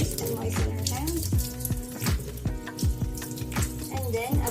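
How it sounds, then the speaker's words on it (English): A tap runs steadily while hands are moistened before handwashing, with water splashing in a continuous rush and irregular hand movements breaking the stream. "Let's turn on the water first and moisten our hands."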